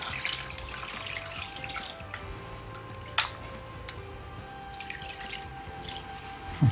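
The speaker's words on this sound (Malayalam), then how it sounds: "ഇതിനകത്തോട്ടേക്ക് വെള്ളം ചേർത്ത് കൊടുക്കുക ഇത് വേവിക്കാനുള്ള." Water poured into crushed ripe mango in a pot for a Kerala mango curry, a steady trickling splash with a couple of sharper drips and clinks, close by and without talk.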